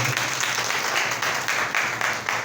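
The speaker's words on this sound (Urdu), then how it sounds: "زوردار تالیاں خدا کے لیے بجا دیں" A church congregation claps in steady applause, a dense rhythmic patter of many hands filling the room, moderately loud with a faint hum underneath.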